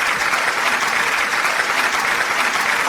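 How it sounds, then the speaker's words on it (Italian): Audience applause at a televised Italian entertainment event welcomes a singer onstage: dense, steady clapping from a sizable crowd, loud and continuous for the whole stretch with no voices over it. "direi di accoglierlo con un forte applauso"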